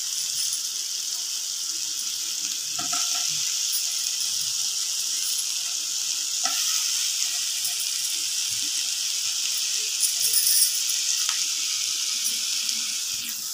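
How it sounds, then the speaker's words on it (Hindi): Tomatoes sizzling in a hot pan while white sauce pasta is cooked, a steady bright hiss and crackle with occasional small pops, continuous and close throughout. "अब हम इसमें टमाटर डालेंगे।"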